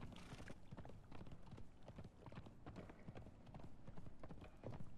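Undead Zephyras horse in Conan Exiles walking at a steady pace, its hooves clopping in a continuous, even rhythm close up, with a busy game soundscape underneath.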